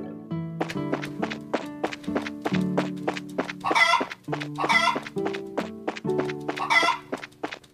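Farm chickens cluck repeatedly in the video game Trails in the Sky FC, their short clucks and occasional louder squawks falling in a busy rhythm over a looping game melody, close and clear with no talking.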